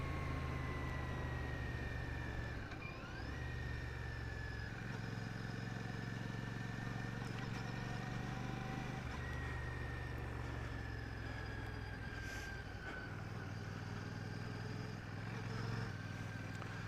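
Royal Enfield Classic 650 motorcycles ride past in single file at a launch, a steady low engine rumble and road noise holding throughout at moderate distance, with pitch shifts as bikes move through.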